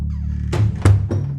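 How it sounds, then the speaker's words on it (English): A front door opens with three close, solid wooden thunks and knocks, spaced a fraction of a second apart, over a low steady hum with no voices. "the front door opens"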